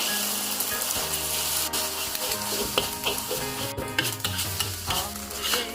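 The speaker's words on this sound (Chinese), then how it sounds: "先把鸡蛋煎好。" Beaten egg fries in hot oil in a wok, crackling and sizzling steadily while a spatula scrapes and stirs in irregular strokes, close and fairly loud, with no talking.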